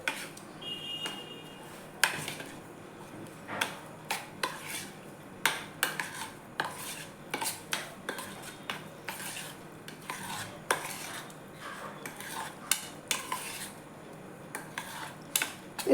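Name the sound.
buttermilk being stirred into dhokla batter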